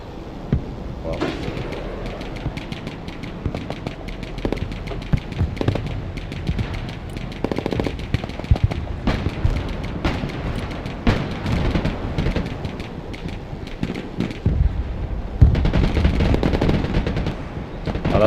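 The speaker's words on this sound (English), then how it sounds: "I love it when boys shoot me through the smoke." Dense, continuous automatic gunfire and rattling bursts from a Broken Arrow video game battle, with heavy low booms underneath, loud and steady across the whole stretch without pauses.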